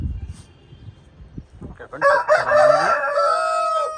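A Reza breed rooster crows once, loud and close, a long drawn-out cock-a-doodle-doo following a couple of seconds of quiet rustling.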